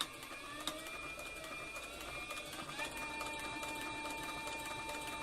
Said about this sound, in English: I'm sewing without a guide. I've got the open toe pressure foot on.